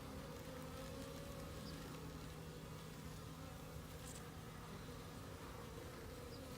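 Bees buzzing around an experimental hive, a continuous low droning hum of many insects close by, quiet and steady with no voices.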